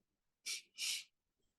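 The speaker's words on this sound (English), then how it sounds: "you can use this technique of breathing in like" Two deep, audible breaths during a guided relaxation breathing exercise before meditation, each lasting about half a second, close and fairly loud, separated by a short pause, with near silence around them.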